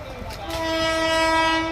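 Indian Railways train passing outdoors with a sustained loud horn, its steady tones swelling and holding near, over a low rumble of the moving cars.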